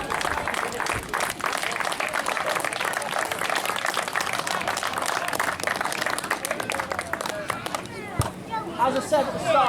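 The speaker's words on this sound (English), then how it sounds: "So go a round of applause for everybody." Round of applause from a crowd at a club event, dense continuous clapping mixed with cheering and crowd chatter, sustained throughout with some voices rising near the end.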